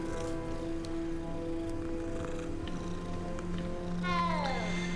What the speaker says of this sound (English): Just pretending it's an actual normal cat sound.